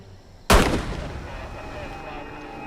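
A single loud gunshot cracks out sharply after a brief quiet moment, followed by a long reverberant decay.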